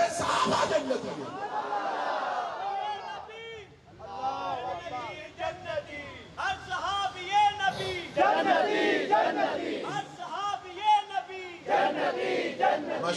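A crowd at a religious gathering chants slogans in loud, ragged unison, with a lead voice calling out between surges of many voices and some scattered laughter.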